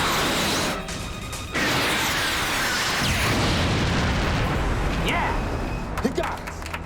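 In a sci-fi movie, a missile strikes a satellite in space, setting off a loud, sustained roaring explosion with rumbling debris and crackling bursts that swell and then fade into a few scattered pops.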